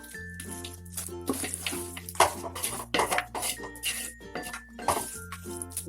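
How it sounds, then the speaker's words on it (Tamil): A spoon scrapes and clinks against a pot while mushrooms and vegetables are stirred for mushroom biryani, giving close, irregular metallic knocks over a low steady hum. "இப்போ நல்லா ஒரு 2 நிமிஷம் நல்லா கிளறி விட்டுட்டே இருங்க."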